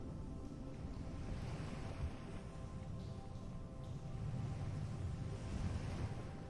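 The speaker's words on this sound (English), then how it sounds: "The ocean continues softly below" Soft, continuous ocean surf washes steadily in the distance below cliffs, a gentle unbroken hiss with slow swells rising and falling.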